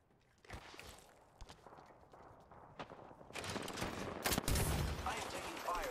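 Video game gunfire: a few isolated shots and footstep-like taps, then a sustained, louder stretch of rapid automatic fire with sharp close cracks, under faint in-game voice chatter.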